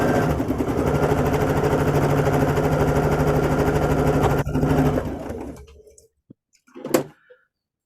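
A sewing machine stitches quilt fabric pieces together in a fast, loud, even whir that runs for several seconds, then stops, followed by a couple of faint clicks and a short handling thump.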